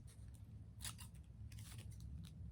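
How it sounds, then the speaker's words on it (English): Scissors make faint, quick snipping and crinkling sounds while cutting tissue paper into squares for a craft project. The sounds fall in a few short bursts over a low background hum. "And then cut them into squares."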